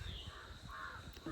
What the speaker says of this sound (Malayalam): ഇവിടെയാണെങ്കിൽ നല്ല കിളികളുടെയും ഒക്കെ സൗണ്ട് ഇങ്ങനെ കേൾക്കാം.